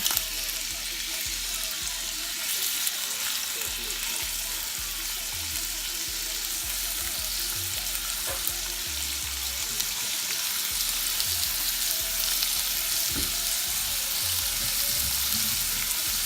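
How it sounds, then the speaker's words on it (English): Steady, loud sizzling and crackling of steak frying in a hot pan, continuous throughout with occasional faint clinks and no talking. "So what I'm gonna do is now add the steak."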